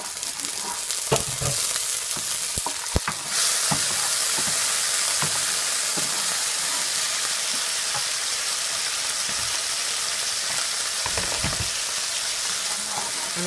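Chicken sautés in dark soya sauce in a hot pan, a steady close sizzle and hiss that swells after the sauce goes in, with occasional scraping clicks of stirring and no talk.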